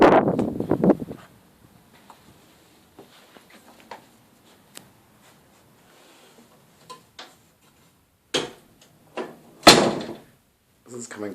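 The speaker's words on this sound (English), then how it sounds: "This is coming back through the front door." A house's front door swings open and shut with a couple of loud, sharp knocks and a latch click near the end. Quieter footsteps and small knocks come before it, and there is brief indistinct talk at the start.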